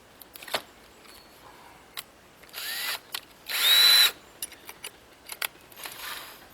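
Power drill with a Bosch bit boring through heavy oak pallet wood. Short whirring bursts start and stop, including one longer, louder run partway through, with scrapes and handling noises between.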